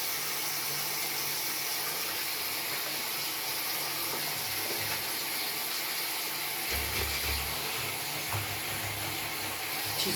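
Tap water runs steadily into a sink while a puppy found by a forest near a military border is being washed, a continuous close hiss with faint splashing and low thumps toward the end.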